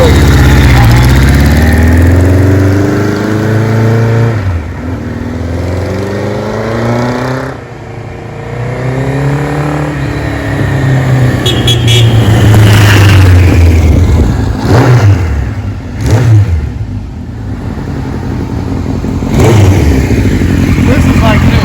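A 1974 Kawasaki Z1 900 motorcycle engine revs and accelerates up through the gears, loud and close, with repeated rising and falling sweeps as it pulls away. A rider talks over it at times.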